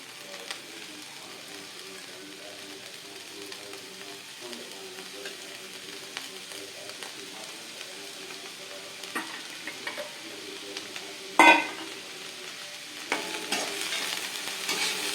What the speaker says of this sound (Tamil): இதெல்லாம் எல்லாத்தையுமே ஒன்றா போட்டு வதக்கிடலாம்